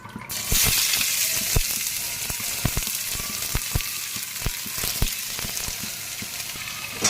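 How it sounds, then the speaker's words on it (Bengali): Chopped onions fry in hot oil with cumin, a steady close sizzle punctuated by sharp spatula taps and stirring clicks, no talk. "পেঁয়াজগুলো ভালো করে ভেজে নেব যতক্ষণ একটু কালার বাদামি কালার হবে না"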